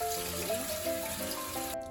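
Tap water runs in a steady stream over udon noodles being cooled in a sink, trickling and splashing, with a faint tonal hum in the background.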